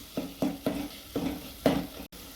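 Chopped tomatoes cooking in a pan of rajma curry masala, stirred with a spoon. Five or six scraping, clattering stirs repeat at an uneven rhythm over a soft sizzle, close up, with no voices.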